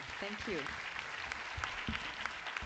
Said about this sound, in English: A big round of applause for our great speaker today.